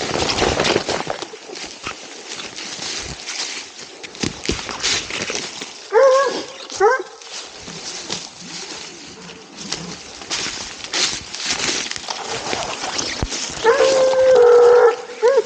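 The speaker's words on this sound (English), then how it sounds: "And Callie used to bark a lot on hot tracks where the deer was shot just a few hours earlier" A tracking dog working a fresh deer track outdoors lets out intermittent barks mixed with high, drawn-out whines and whimpers, fairly close, with birds faintly in the background.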